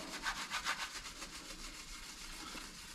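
A towel wiping glass cleaner over a truck surface, a soft rhythmic rubbing at close range, quiet and steady with no talking.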